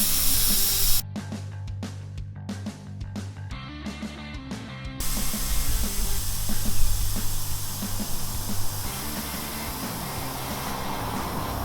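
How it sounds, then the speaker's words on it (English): Air hisses steadily out of a Honda CB250 scrambler motorcycle tyre as the valve is held open with a grinder spanner. The loud, continuous spray-like rush is briefly broken by tool clicks and scraping. "I'm going to use the spanner from my grinder and just hold the valve in to get as much air out as I can"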